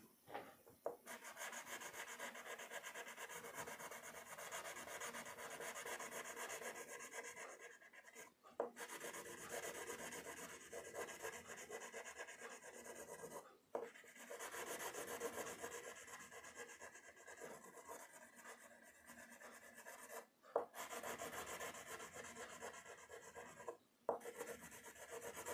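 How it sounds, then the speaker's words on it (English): A brown crayon is rubbed across paper to colour a tortoise shell, making a close, continuous scratchy rasp in repeated strokes, broken by a few brief pauses. "Now we will use a brown crayon to color the shell."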